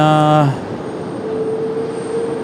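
A Boeing 737 MAX 8 jet taxies at Raleigh-Durham International Airport, its engines giving a steady, loud whine over a broad rumble, with a brief tonal sound at the start.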